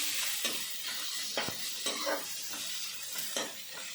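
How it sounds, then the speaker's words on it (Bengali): Garlic and ginger fry in oil with browning onion in a pan for fish-oil chorchori, a faint continuous sizzle broken by soft repeated stirring scrapes. "এবার আমি রসুনটা দিলাম আর আদাটা দিলাম, দিয়ে এবার নাড়াচাড়া করছি।"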